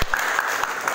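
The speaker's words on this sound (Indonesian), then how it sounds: "Tepuk tangan untuk kalian semuanya." Students clapping together in a classroom, a steady burst of applause about a second long, fairly loud and close, with no talk over it.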